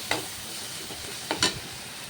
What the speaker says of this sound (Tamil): உப்பு ஆட் பண்ணி நல்லா வதக்கிக்கோங்க.